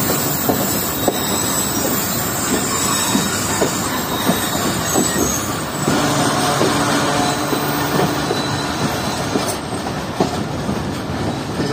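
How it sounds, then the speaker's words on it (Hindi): The Millat Express rushes past fast on the rails, a loud sustained rumble with rhythmic wheel clatter and squealing tones swelling midway, no voices. "जो ट्रेन काफी तेज आई है पीछे से"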